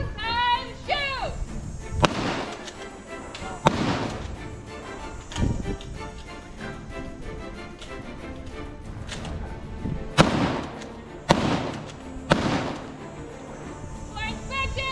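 Rifle volley shots fired by a ceremonial firing detail at the former Royal Canadian Navy destroyer Haida, several sharp loud cracks spaced irregularly across the span with commands spoken before and between them.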